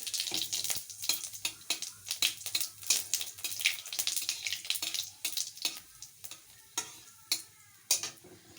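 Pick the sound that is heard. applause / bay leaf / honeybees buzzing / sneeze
bay leaf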